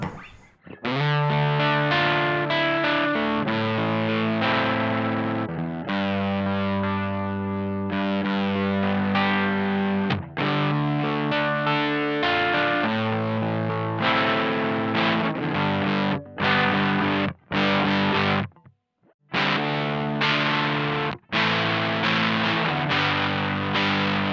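Electric guitar through a Tym Guitars Black Mud overdrive pedal with volume raised, playing a long run of loud, crunchy distorted chords and riffs with brief pauses and one clear gap, close and alone without talk.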